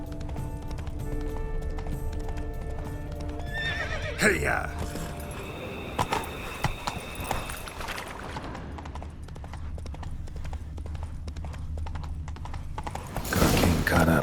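Horse hooves clip-clopping at a run with a neigh in The Witcher 3: Wild Hunt, close and loud over game background ambience, as a rider shouts briefly.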